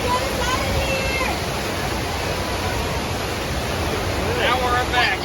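Flood water effect on the Universal Studios Tour ride pours in as a loud, steady rush of gushing water, close by, with riders' voices and shouts mixed in.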